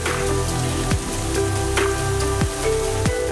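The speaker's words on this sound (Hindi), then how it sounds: "सफूरा में धुआंधार बारिश से मौसम सुहाना हो गया।" Heavy rain falling in Safoora, Karachi, a dense steady patter and hiss of drops on surfaces with a few sharper knocks, continuous and fairly close.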